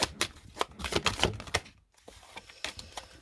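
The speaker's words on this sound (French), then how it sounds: "On va poser les cartes." Tarot cards are laid down one after another on a table in a reading, giving a run of sharp close taps and slaps with a short pause in the middle and no talk.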